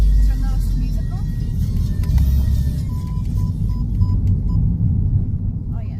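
A boat engine rumbles low and steady near Wellington, a continuous droning throb that holds for several seconds, with people talking faintly over it.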